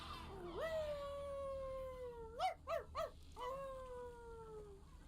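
A dog howls in the game Before Your Eyes: long, wavering, mournful tones broken by three short yipping bursts in the middle, then a final sustained howl, over faint background hum.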